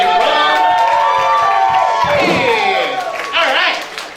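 A comedy club audience cheers, whoops and applauds loudly for a performer named Vince. The crowd noise is dense and sustained, with shouting voices over it, and it fades a little near the end.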